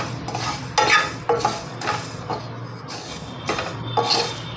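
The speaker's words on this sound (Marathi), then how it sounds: "खोबरं अगोदर हे थोडंसं भाजून घेऊया." Coconut and masala dry-roast in a pan as a spoon scrapes and clinks against the metal in repeated strokes, close by over a low steady hum, with no voices.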